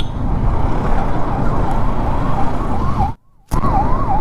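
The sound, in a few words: ambulance siren on the road ahead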